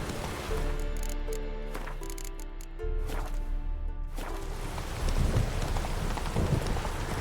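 Horse hooves from The Witcher 3 clip-clop in a steady trotting rhythm, close and clear, with background music and ambient sound layered underneath throughout.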